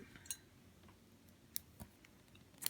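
Yarn is snipped with scissors while joining crochet granny squares, a few sharp quiet clicks spaced apart over near silence.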